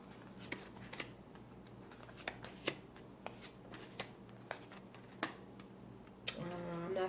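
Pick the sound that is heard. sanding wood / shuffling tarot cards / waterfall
shuffling tarot cards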